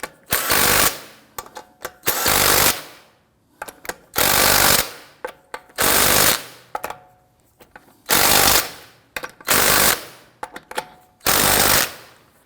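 An impact wrench snugs down wheel lug nuts in a crisscross pattern on a 2001-2009 Volvo S60 2.5L, giving a string of loud, close rattling bursts separated by short pauses.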